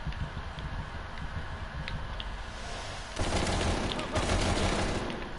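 Sustained gunfire in Call of Duty: Cold War's campaign on realism difficulty, a steady noisy rattle of shots that grows louder and denser partway through, with no talk.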